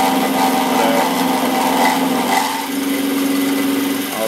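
A Chester Model B 3-in-1 combination lathe, pillar drill and milling machine runs steadily nearby, a constant motor whine with a mechanical hum and a slight dip in tone partway through.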